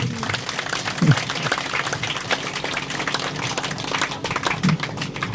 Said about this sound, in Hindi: अगर सहमत हैं तो तालियां बजाते रहिए